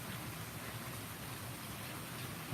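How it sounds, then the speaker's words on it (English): Steady rain falling outside a porch, a dense even hiss that holds constant throughout with no other sounds or voices. "I know, it's nice rain. Can you hear it?"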